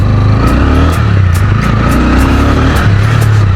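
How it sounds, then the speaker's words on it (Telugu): A TVS Ronin motorcycle pulls away hard in first gear, its engine note loud and close as it rises steadily in pitch under a continuous rumble, with no talk over it. "బండి పికప్ ఫాస్ట్గా అందుకుంటుంది."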